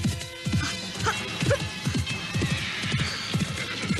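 Horse hooves clip-clopping in a steady, fast gallop rhythm across the whole stretch, with brief neighs and a dull crash in a dramatized chase scene, moderately loud with no talk.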